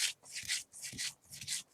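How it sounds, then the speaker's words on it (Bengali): Green chili and salt are crushed on a stone slab with back-and-forth rubbing strokes, about four soft scrapes in quick succession, very faint and close, with no talk. "এবার নুন দিয়ে কাঁচা ঝাল বেটে নিয়েছে"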